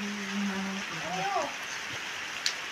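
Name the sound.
rain falling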